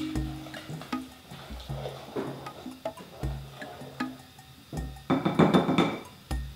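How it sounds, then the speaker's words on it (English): Oil, coconut sugar and vinegar stirred together in a bowl for vegan gluten-free corn bread, with close, repeated clinks and knocks of a utensil against the bowl and a wet swishing that grows busier toward the end, no talking. "stir those until they're just combined"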